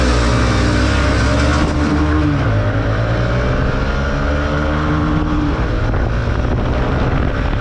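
125cc motorcycles, a 2026 TVS Raider 125, Hero Xtreme 125R and Honda CB 125 Hornet, accelerate hard in a performance test, giving a loud, continuous engine drone with shifting pitch and heavy wind buffeting.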